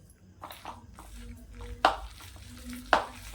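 Onion and gram flour batter for crispy onion bhaji, mixed in a bowl with soft wet stirring and squelching, punctuated by two sharp clinks of a spoon against the bowl.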